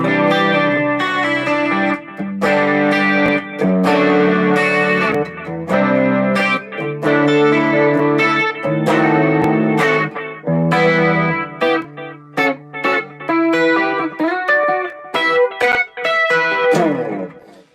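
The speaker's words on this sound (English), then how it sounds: "This has the tape emulation delay." An electric guitar plays through an Electro-Harmonix Canyon pedal set to tape emulation delay, with a melodic line of sustained notes and chords trailing warm repeats, loud and alone throughout.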